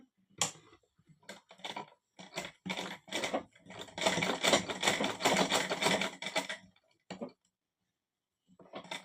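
Sewing machine stitching a pillow cover, close rapid clattering bursts of stitching that stop and start, with a longer continuous run in the middle and quiet gaps between.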